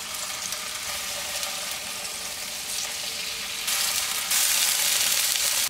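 Tofu fries in hot cooking oil, giving a steady, fairly quiet crackling sizzle that grows brighter and louder toward the end, with no voices.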